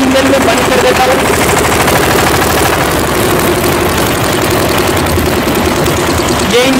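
Engine of a concrete mixer lift machine running, a loud, steady chugging drone with a rapid knocking pulse that holds unbroken from start to finish, with no talk.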